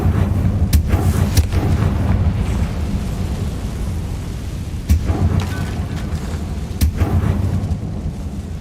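Confringo fire spell explosions in Hogwarts Legacy: loud booming blasts over a dense, steady rumbling roar, with several sharp bursts standing out near the start and later on.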